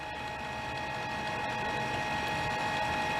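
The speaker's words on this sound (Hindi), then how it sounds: "इतनी आवाज़ करने के बाद एक तो प्रिंट कर ही सकता है ना, ये आवाज़ ऐसी कर रहा है" A printer makes noise over a phone call: a continuous mechanical whirring drone with a steady hum, moderately loud and unbroken, with no talking.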